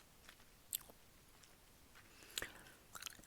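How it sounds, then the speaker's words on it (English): Gum is chewed softly and close up, with faint wet clicks and smacks that come irregularly, a few sharper snaps standing out against quiet background. "yeah, I do like chewing gum."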